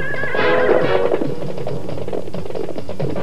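A horse whinnies loudly with a shrill, wavering neigh that trails off, followed by a busy clatter of hooves and rustling.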